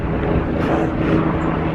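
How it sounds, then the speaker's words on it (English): Helicopter flying overhead near the USS Intrepid in New York City, a steady broad rotor and engine roar with low throbbing, loud and continuous, alongside wind noise and no talking. "there's a helicopter flying over right now"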